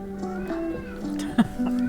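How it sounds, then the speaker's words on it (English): A house cat meows loudly, a few drawn-out, whiny calls close by with a short sharp squeak in between, and no talking. "I have a very loud kitty."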